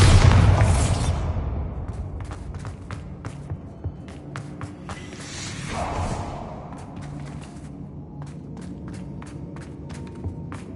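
A Bombarda spell detonating in Hogwarts Legacy: a loud booming blast at the start that decays into scattered taps, thuds and debris clatter, with a second softer swell midway.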